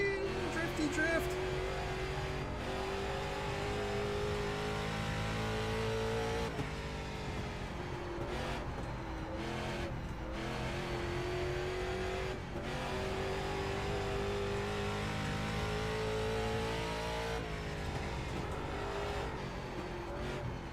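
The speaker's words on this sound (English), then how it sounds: "Now it's my turn to drift." An iRacing race car drifts around a corner, its engine droning and revving in a steady sustained tone with shifting pitch and occasional tire squeal, while people talk over it.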